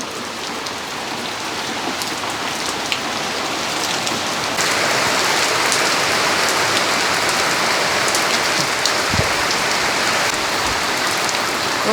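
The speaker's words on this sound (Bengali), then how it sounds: "অনেক বৃষ্টি শুরু হয়েছে।" Heavy rain pours steadily in a village, a dense continuous hiss of drops on surfaces that grows slightly stronger partway through, with no voices.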